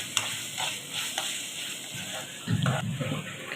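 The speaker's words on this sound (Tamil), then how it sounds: "இப்படி கிளறி விட்டுக்கிட்டே இருங்க" Ginger-garlic paste and onions sizzle in a pan for Chennai-style chicken uppu kari, with repeated scraping stirs and a soft steady fry hiss, close and moderately loud, with no talking.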